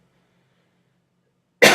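One sudden, loud cough bursts out at the very end, after near silence.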